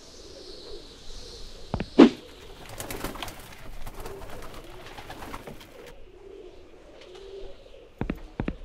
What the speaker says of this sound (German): Diese Tauben sehen hungrig aus und sie sehen mich so komisch an.